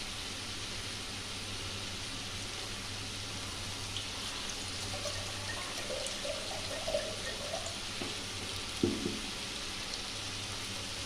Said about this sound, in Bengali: এবার আমি আন্দাজ মতন জল দিয়ে দেবো।